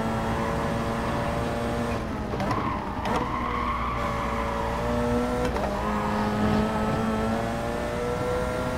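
A race car engine screams through a hot lap in Gran Turismo Sport, loud and sustained with steady high revs, pitch rising and dipping through brief shifts and corners.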